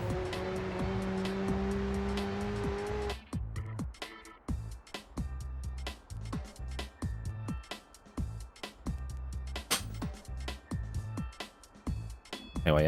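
A car racing in The Getaway: Black Monday gives a steady engine drone, then a run of sharp rhythmic knocks and tire squeals over a lower motor hum, with the sound cut at intervals.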